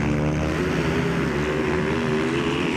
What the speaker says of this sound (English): as we hear the revs building and clicking gear as they head off